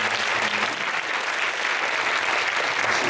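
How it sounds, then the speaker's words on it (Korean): A church congregation at a Friday chapel service applauds, a steady, dense wash of many hands clapping at once, continuous and moderately loud throughout. "박수 한번 쳐주세요."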